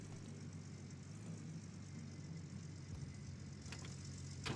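A vehicle engine in the Gold Rush video game idles with a steady, faint, low drone, joined by a few soft clicks and no voices.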